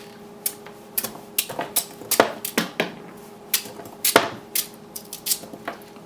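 A sharp knife chops through sweet potato on a board in an outdoor barbecue setting, giving irregular crisp knocks and taps, some close and distinct, with a faint steady hum underneath.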